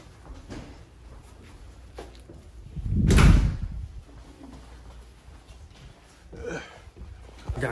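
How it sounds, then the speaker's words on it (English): A minivan door slams once with a heavy, resonant thump near the middle, set against quieter background movement and ambient noise. "Shut the door."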